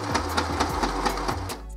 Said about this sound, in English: Now this will take the printer just a couple minutes. You'll hear a few noises coming from the machine